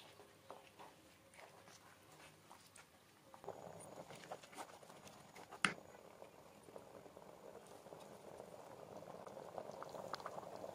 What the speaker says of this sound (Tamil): மசாலா நல்லா 5 நிமிஷம் கொதிச்சிருச்சுங்க.